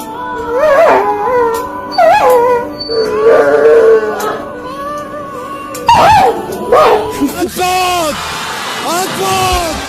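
Drawn-out, wavering howls rise and fall in pitch, loud and close, repeating several times with brief pauses between them.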